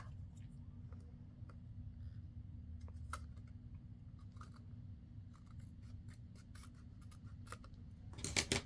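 Scissors trimming paper for a 12x12 pocket craft project, with a series of faint, close snips and light paper rustles over a low background hum, ending in a louder burst of handling.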